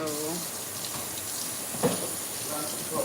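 A running tap pours cold water in a steady, even hiss that fills the whole stretch, with a faint voice and small knocks over it.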